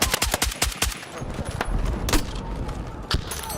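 Rapid DMR gunfire in Battlefield 6, a quick burst of sharp close shots at the start, then scattered single cracks and distant fire over a low rumble.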